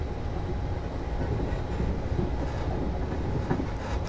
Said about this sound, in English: You can hear a lot of squeaking on the tracks as you go around the bends